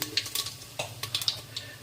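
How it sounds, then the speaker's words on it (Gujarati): Ground cumin tipped into hot oil already holding mustard seeds, cumin seeds and asafoetida, sizzling with light crackles and a few sharp pops close by, no voices over it. "અને દળેલું જીરું છે એ પણ નાખી દઈશું 1 ચમચી જેટલું."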